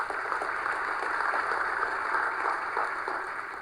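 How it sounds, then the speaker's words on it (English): Audience applause at South Africa's 2020 State of the Nation Address, a steady wash of many hands clapping that holds evenly for a few seconds, then tapers slightly at the end, with no talk over it. "we ought to applaud the class of 2019"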